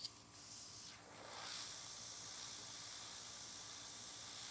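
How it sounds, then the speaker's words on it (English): An airbrush sprays top coat polish over nails in a workshop, giving a soft continuous hiss that swells after a brief pause and then runs steadily and quietly. "And I'm spraying on the top."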